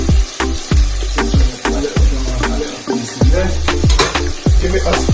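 A utensil scrapes and clacks repeatedly against a pot of Jamaican pineapple chicken with Scotch bonnet peppers, loud sharp strokes in an uneven rhythm over a steady sizzle.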